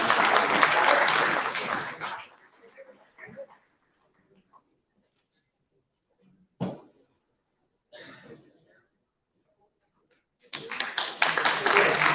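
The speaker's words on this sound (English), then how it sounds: "Let's have a big round of applause, ladies and gentlemen" An audience at the IMPACT Person of the Year 2020 awards applauds a singer and composer. A dense burst of clapping fades into a quiet stretch with a few sounds and a voice, then loud applause returns at the end.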